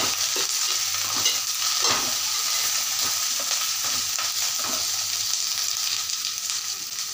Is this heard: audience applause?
no